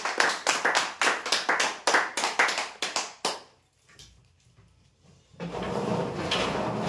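An audience claps for a prize-draw winner at a weekly lucky draw. Steady, close clapping runs for about three seconds, then stops, and a quiet stretch is followed by a burst of broad room noise.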